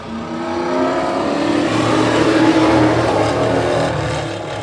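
A field of race cars starts a heat at a short track, their engines blending into a loud, sustained roar that swells as the pack accelerates and holds steady, with no talk.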